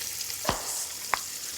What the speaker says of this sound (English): let's get those in the frying pan